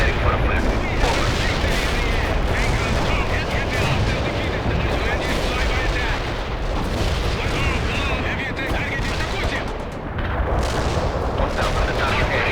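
Continuous rumbling artillery bombardment in World in Conflict, dense booms and gunfire blending into a loud, unbroken wall of battle noise, with radio-style voices heard over it.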